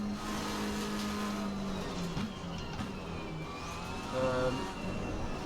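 A race car engine in the video game Assetto Corsa at the Zandvoort circuit, a steady droning engine note that shifts pitch as it revs, with a brief louder surge near the end and no talk.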